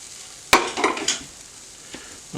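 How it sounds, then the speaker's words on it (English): Onions sizzling on a hot griddle greased with avocado oil, a sharp scraping stir followed by crackling frying bursts that fade to a quiet hiss, with another scrape near the end. "I think that's already got sizzle"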